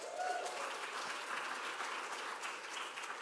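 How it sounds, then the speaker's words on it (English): A church congregation at a worship service applauds steadily, a dense wash of clapping with faint cheering, continuing without pause. "Can I get a round of applause for that?"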